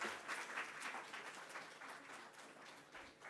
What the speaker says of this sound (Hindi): जोरदार तालियों से एवरीवन.